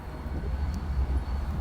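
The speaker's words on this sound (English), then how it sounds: "Love the trains around here." A train passes nearby in a Missouri town, heard as a steady low rumble with broadband roar that holds evenly throughout, no voices over it.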